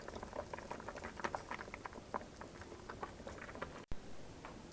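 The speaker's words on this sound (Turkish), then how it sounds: "tenceredeki suyu 40 dakika kısık ateşte kaynatalım" Water in a pot simmers on low heat around a jar of oil, making a soft, steady patter of small bubbles throughout, with one brief break near the end.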